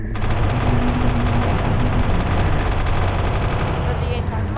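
Nuclear and anti-matter bombs explode in WorldBox as a continuous loud rumbling roar with crackling bursts, sustained for several seconds before tailing off slightly.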